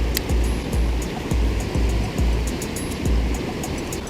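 A big river in dangerous, fast-flowing conditions, where catfish are being fished, rushes and churns as a steady, loud wash of water, with a low rumble and a few thumps, close by and with no voices.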